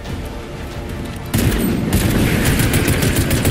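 Shotgun blasts in the video game Fortnite, heard as a loud, close burst of gunfire that jumps sharply in intensity partway through and continues as a dense, crackling barrage.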